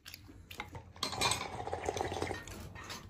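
Dishes, pots and cutlery clink and clatter as they are washed at a home kitchen sink after a home-cooked lunch, in close, irregular knocks and scrapes with some running water.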